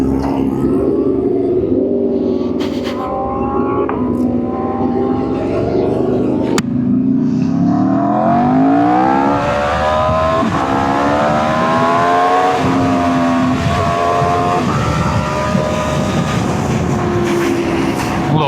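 Kawasaki H2 motorcycle revving and accelerating hard on the road, engine pitch climbing through gears in long rising sweeps, loud and close, with wind rush throughout.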